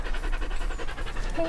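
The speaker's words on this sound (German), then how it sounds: "Wir haben gerade einen neuen Hund gefunden." A dog panting steadily and rapidly while walking along a path outdoors, heard close by with a continuous low rumble underneath and no talking.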